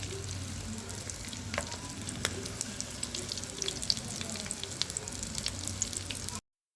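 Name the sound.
samosa rolls frying in oil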